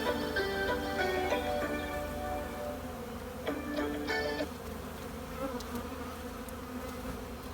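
Honeybees crawl over a brood frame lifted from a nucleus hive, their close, continuous buzzing marked by shifting whining tones that swell and fade as individual bees pass near, with no talking.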